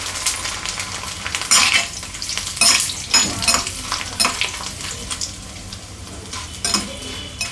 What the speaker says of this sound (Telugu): ఇందులో ఆయిల్ పోసి కొంచెం వడియాలు వేయించుతా